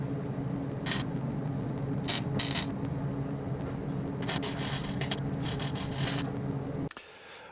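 An angle grinder rounds off the corners of steel slats for a homemade plasma cutting table. A steady motor hum runs throughout, broken by several harsh bursts of grinding as the disc meets the metal, then cuts off abruptly near the end.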